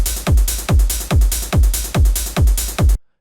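A trance drum pattern plays loud and alone: a steady four-on-the-floor kick with bright hi-hats and claps filling the gaps between beats, stopping abruptly.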